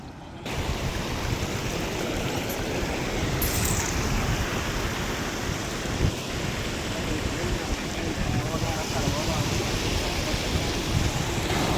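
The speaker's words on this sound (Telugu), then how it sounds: "వాగులు వాన రాత్రి పడ్డ వానకి ఫుల్గా నీళ్ళు పోతున్నాయి" Floodwater rushes through a stream after overnight rain, a dense, continuous roar that stays loud and close throughout, with a lorry stuck in the water nearby.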